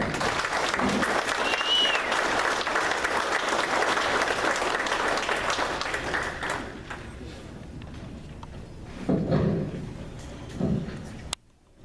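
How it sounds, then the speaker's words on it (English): An audience at a Berks County Patriots meeting gives a big round of applause, a full, sustained burst of clapping that fades after several seconds into scattered claps and room noise. "let's give him a great big round of applause"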